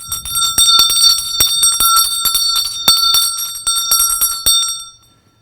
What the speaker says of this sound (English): the principal would come and ring the bell for them to return to classes